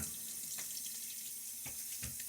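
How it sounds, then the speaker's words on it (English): Water runs steadily from a bathroom sink tap during a wet shave, with a few soft splashes and clinks against a quiet, hissing flow. "Maybe splash a little bit of water."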